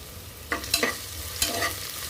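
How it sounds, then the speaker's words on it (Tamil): Onion, dried red chili, asafoetida, curry leaves and grated ginger sautéing in oil for a veg masala oats kichidi, with a few brief scraping stirs over a faint sizzle. "வெங்காயம் நல்லா வதங்கிடுச்சு"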